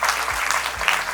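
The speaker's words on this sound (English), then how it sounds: "give a big round of applause to all those people who are here." Audience applause at a constitutional awareness gathering hosted by Anjuman-I-Islam, a steady wash of clapping held at an even level for just over a second, with no speech over it.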